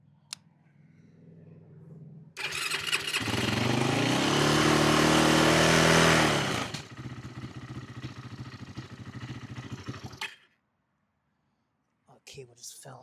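A Yamaha YFZ450 ATV engine, choke on, cranks and catches, revving loudly and roughly for a few seconds before settling into a ragged idle and cutting out, with people talking nearby.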